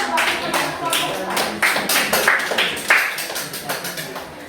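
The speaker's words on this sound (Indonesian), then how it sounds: "Ayo kita beri tepuk tangan dulu." Several people in a classroom clap hands in a brisk, somewhat irregular series of crisp slaps, close-up, with some background voices underneath.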